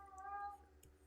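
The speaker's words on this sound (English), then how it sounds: "That is my cat in the background." A pet cat meows in the background indoors, one short, tonal, drawn-out meow over a low steady hum, fairly faint and distant.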